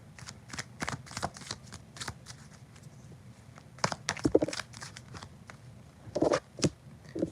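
Tarot cards shuffled and drawn by hand, close crisp riffling and snapping card sounds in irregular bursts, louder flurries near the end, no talking.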